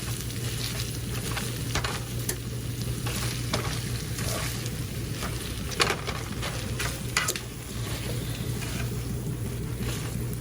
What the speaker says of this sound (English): Just mix this in really good.